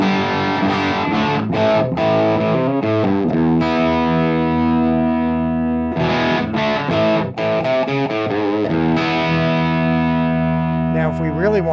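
An electric guitar played through a PedalFire distortion pedal turned up high rings out in loud sustained chords and bends with heavy gritty saturation, filling the whole stretch with thick, continuous tone.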